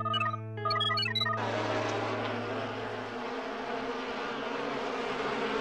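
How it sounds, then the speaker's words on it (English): Cartoon bees from the Dino Squad animated series buzz in a steady, dense drone after a few tonal electronic beeps, continuous and fairly loud to the end with no talking. "I mean, they're just bees."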